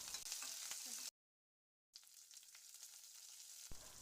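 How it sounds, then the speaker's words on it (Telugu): Cumin and mustard seeds crackle and sizzle in hot oil for a tempering, with chopped ginger added, a bright close frying hiss broken by a short silent gap before resuming. "మామూలుగా అన్ని కూరలలో వేసుకున్నట్టే జీలకర్ర ఆవాల పోపు, చిన్నగా కట్ చేసుకున్న అల్లం ముక్కలు"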